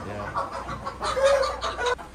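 Parrot Beak Aseel chicken, a very large breed, clucking close by in a few short repeated bursts, with one brief higher note partway through.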